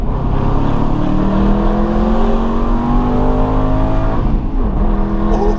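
Aston Martin AMR engine revving hard and accelerating on roads in Monaco, a loud, steady roar with rising harmonic pitch sweeps throughout and a brief shift dip near the end.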